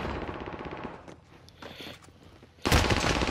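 Automatic gunfire from the video game Call of Duty Warzone on Rebirth Island: rapid rattling bursts early, a quieter stretch, then a loud, dense volley near the end, with no talk.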